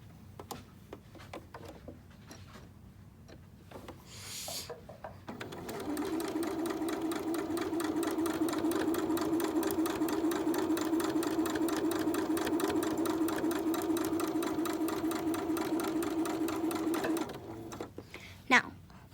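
A sewing machine stitching along a fabric fold, running in a steady fast whir for about twelve seconds, loud and close, with quieter handling noises before and after it starts and stops.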